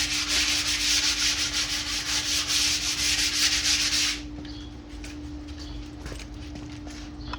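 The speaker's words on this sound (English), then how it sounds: "So now I'm just gonna sand it and then paint it." Wooden sneeze guard pieces being sanded by hand, a loud steady rhythmic rasping of sandpaper strokes that stops partway through, leaving quieter scattered handling noises.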